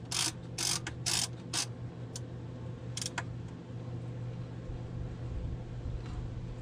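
A socket ratchet turns a bolt on a John Deere Gator starter, giving several quick bursts of close, crisp clicking followed by a lone short burst, then a quiet mechanical hum.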